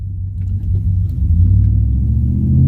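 A car engine rumbling as the vehicle drives, a steady deep low drone building slightly in loudness, heard from inside the cabin with no talking.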